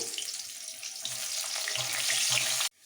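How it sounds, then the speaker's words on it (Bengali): Sliced potato frying in hot oil with black cumin seeds, a steady close hiss and crackle that continues evenly, with faint low clatter from the pan, then cuts off abruptly near the end. "এই আলু কটাকে একটু ভেজে নেবো"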